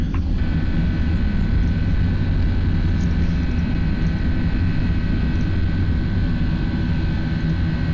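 A British Airways FSLabs A319 airliner in the P3D v5.3 flight simulator takes off from runway 27, its engines producing a loud, constant roar that fills the whole stretch with no talk.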